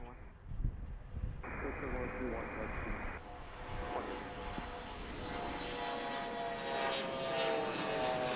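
An airplane landing at Washington Reagan National Airport, a broad engine roar that builds and holds steady, with radio chatter and a voice talking over it.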